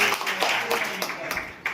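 Audience clapping for Gajan Bhau at a Women's Day honour event held by the Pimpalgaon area journalists' association, a moderate burst of scattered hand claps with a voice over it.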